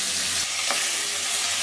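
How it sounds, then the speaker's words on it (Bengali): Turmeric- and salt-rubbed fish head sizzling in hot mustard oil in a kadai, a loud, steady frying hiss that runs alone throughout with a brief spattering crackle partway through. "মাছের মাথাটা হচ্ছে হলুদ আর লবণ দিয়ে সুন্দর করে মেখে ভেজে নেব।"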